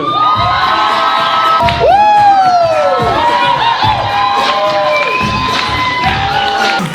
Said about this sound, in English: I want everyone to be clapping, screaming